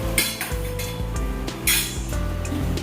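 Semolina, water and salt being stirred in a metal pot, with a utensil scraping and clinking against the sides in quick, uneven strokes, close and fairly loud, with no talking.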